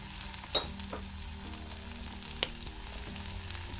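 Spices and dried chili pieces temper in hot oil with spring onion flowers, giving a steady close sizzle, broken by a few sharp clinks of a spoon or pan.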